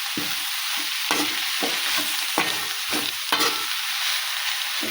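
Amaranth (rajgira) palya stirred in a pan over a steady loud sizzle, with regular scraping strokes of the spatula every half second or so, close and without voices.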